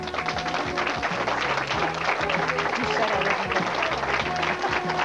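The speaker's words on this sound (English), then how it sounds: "The applause speaks for itself." Applause rolls through a duckpin bowling alley at a tournament awards gathering, a steady crowd clapping at moderate level, with voices and tapping noises mixed in beneath it.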